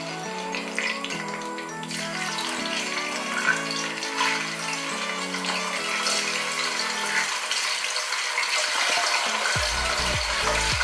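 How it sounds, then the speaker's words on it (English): Fish frying in a pot of hot oil at home sends up a steady, loud, dense crackle and hiss that runs unbroken throughout, with a faint low hum underneath. "our oil is ready and it's time to fry the fish"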